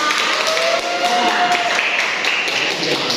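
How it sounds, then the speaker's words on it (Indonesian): Students in a classroom give a classmate a steady round of dense applause that holds at an even, fairly loud level for about three seconds, with some voices mixed in. "Beri aplaus supaya Sofia"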